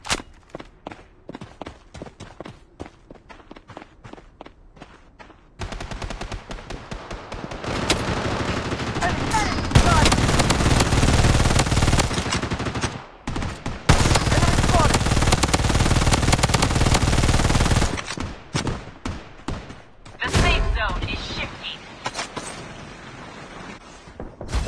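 Sustained automatic gunfire in the mobile shooter Blood Strike, long dense bursts of rifle fire loud and close, broken by short pauses and scattered single shots, with game voice callouts mixed in.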